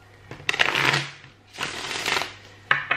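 A deck of tarot cards being shuffled by hand, two riffling bursts of papery rustle and a snap at the end, close and fairly loud with no speech.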